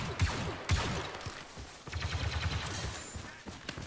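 Gunfire in Star Wars Battlefront II, rapid, fairly faint bursts of shots and mechanical clatter that fire in quick succession, with a short pause midway.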